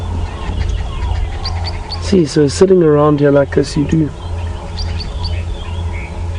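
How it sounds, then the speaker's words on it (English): Three-banded plovers chirp in short, high, thin calls during a sunrise safari drive, faint in the background while someone talks over them in the middle of the clip. "That's what I can hear chirping. They are beautiful little birds, beautiful little plovers,"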